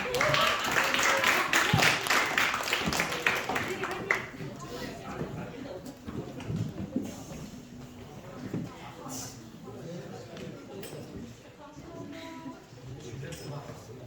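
A school festival audience claps to welcome a group of 8th-grade girl presenters, a dense burst of applause for about four seconds that then fades into murmuring room sound and scattered voices.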